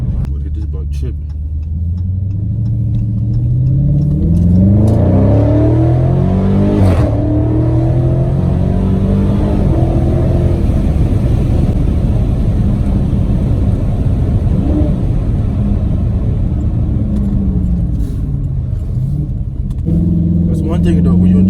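A 2020 Dodge Challenger 392 Scat Pack V8 revs hard through fast launches, loud and close, its rising and falling engine pitch filling the cabin while voices talk over it.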